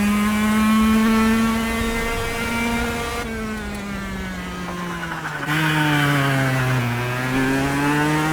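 Kart engine from the KartKraft racing video game, a steady buzzing drone that rises and falls in pitch as the throttle changes, loud and continuous throughout with no talking.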